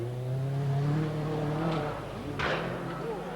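A 1985 Peugeot rally car races through a special stage of the Lombard RAC Rally, its engine droning and pitching up and down as it passes, with a brief sharp burst near the end.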